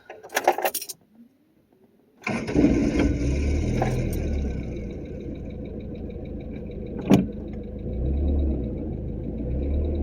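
A 1987 Toyota Tercel wagon with transmission trouble: keys jangle and a door-like rattle, then the engine starts and runs steadily at a low rumble with a sharp knock partway through.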